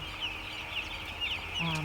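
Farm chickens cluck and cheep in a scatter of short, high calls, moderately close, over a steady low background hum.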